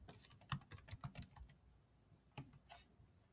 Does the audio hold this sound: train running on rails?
no